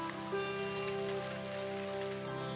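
Light drizzle falls in a monsoon forest in Tadoba, a steady soft patter of rain on strewn dry leaves with a continuous hiss and faint tonal background sounds throughout.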